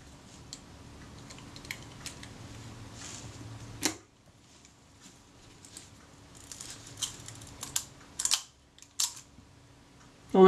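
While a Kodak Retina IIIC camera is being serviced, a small screw is wound in, making faint, close ticks and light metallic clicks in scattered bursts against a quiet background.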